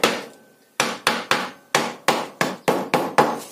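A small hammer taps nine times on the insulating partition for a beehive, sharp close knocks in an uneven rhythm, with a lone strike followed by a pause and then a quicker run of blows.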